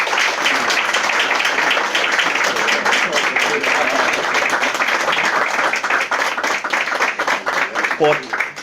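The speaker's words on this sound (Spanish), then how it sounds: "pedir un aplauso para Daniel, para Ángel, para Miguel, para Daniel" Audience applause for several speakers after a talk on UFOs, a dense, steady wash of clapping that stays loud throughout, with voices mixed in and a few cheers near the end.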